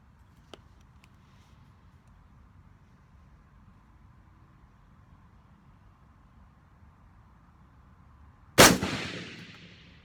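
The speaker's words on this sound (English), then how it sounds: "All right, let's take another shot and see where we're at." A single sharp AR-15 rifle shot cracks out loud at a gun club range, followed by a decaying echo, with a faint metallic tick earlier over quiet outdoor background.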